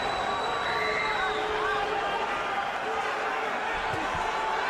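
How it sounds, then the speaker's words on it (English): Boxing arena crowd at the Pacquiao vs Diaz fight, a steady roar of cheering and murmuring filling the space, fairly distant and continuous, with faint whistles and voices within it. "And you hear the adoration of the crowd."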